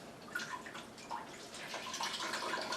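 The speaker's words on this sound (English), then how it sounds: "give it a little bit of a squeeze so we're not dripping everywhere" A wet tea towel is squeezed out over a turkey-brining container, and water trickles and drips in a quiet, irregular patter of small splashes.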